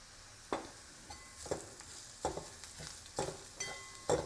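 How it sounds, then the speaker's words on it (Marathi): Paneer bhurji masala with onion, capsicum, fenugreek and coriander powder being sautéed, with a soft sizzle broken by about eight rhythmic spatula scrapes against the pan. "मसाला देखील आपल्याला अर्धा मिनिट व्यवस्थित असा परतून घ्यायचा आहे"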